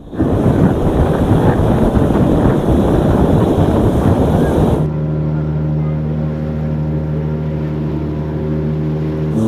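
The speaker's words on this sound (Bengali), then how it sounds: "অলরেডি কিন্তু জেসকি আমরা শুরু করে দিয়েছি, আর এটা কিন্তু হাই স্পিড।" A jet ski racing at high speed on the sea, with a loud rush of wind buffeting the microphone and spray for about five seconds, then a steadier, droning engine tone with faint voices in the background.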